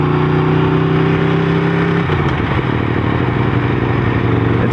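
An Aprilia RSV4 RF motorcycle's V4 engine revs loudly up close, a sustained roar whose pitch shifts midway before settling into a steady drone.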